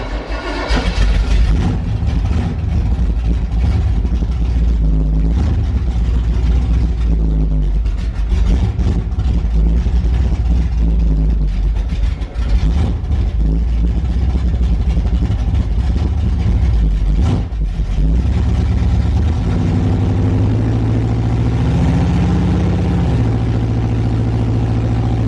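A car engine, the build nicknamed Jack Black, revs hard against the foot brake in a stall test, a loud sustained droning roar that climbs in pitch toward the end, close up with no talk.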